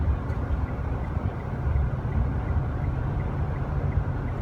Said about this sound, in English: You could hear a little of the whine of the turbo engine as well, the turbo mechanism, but nothing disturbing.